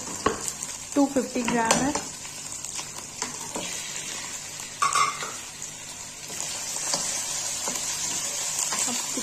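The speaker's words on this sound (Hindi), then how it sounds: "अब चिकन की थोड़ी सी भुनाई करके" Chicken and onions sizzling in a pan and being stirred, with a continuous close frying hiss, scraping and clinks of utensil against the pot, and someone speaking briefly.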